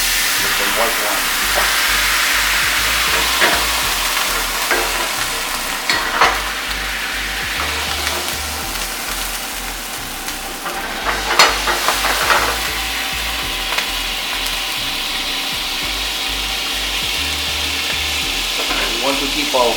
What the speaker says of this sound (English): we will start with deglazing the pan with some white wine